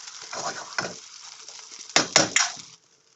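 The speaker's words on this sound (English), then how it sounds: "Give it a nice flip." A smoked salmon crepe is flipped in a hot pan, with a soft steady sizzle broken by several sharp scraping bursts of the spatula near the end before falling quiet.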